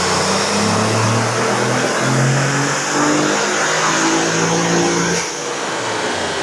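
A stock-turbo car engine with stock intercoolers revs hard, loud and close. The pitch climbs and falls in repeated surges, then drops away sharply near the end.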